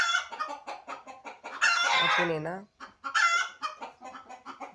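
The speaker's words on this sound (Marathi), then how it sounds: "कोंबडा सारखं ओरडतोय." A village rooster crows loudly and close by between bursts of clucking from several free-range hens settling to roost, while a person briefly talks over the birds.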